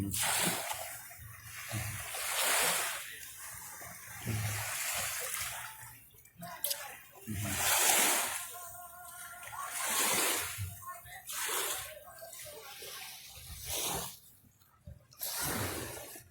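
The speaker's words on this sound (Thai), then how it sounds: "ดูคลื่นกระทบฝั่ง" Lake waves at White Lake, North Carolina, wash against the shore in a steady rhythm, each surge swelling and hissing before fading, repeating roughly every couple of seconds at moderate loudness.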